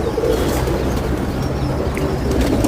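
A Lal Pari pigeon, an aging bird kept by a breeder, coos softly and repeatedly in a close, quiet setting, with a faint low background hum and no voices.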